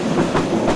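Bijoy Express passenger train rolling along the rails, a steady close rumble with a faint clickety-clack rhythm throughout, no voices.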